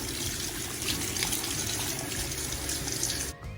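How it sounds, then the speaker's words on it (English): Tap water pours steadily into a sink while strained pasta is rinsed to stop it cooking, a continuous close gush that runs loud and even throughout, then cuts off just before the end. "rinse with normal water to stop the process of cooking."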